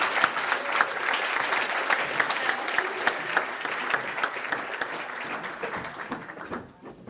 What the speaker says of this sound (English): give them another round of applause to these amazing youth in our community